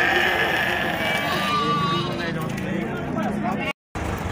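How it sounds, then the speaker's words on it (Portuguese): Sheep bleat amid a busy, noisy goat and sheep market in Sumé, Paraíba, Brazil, with voices talking in Portuguese throughout and a brief dropout near the end. "Agora aqui são duas ovelhas, três ovelhas bonitas."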